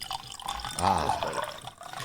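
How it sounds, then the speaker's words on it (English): Buffalo Trace bourbon pours into a glass in a short, close liquid stream with a rising gurgle, set against faint room background. "Hey, I also want to hear the pour."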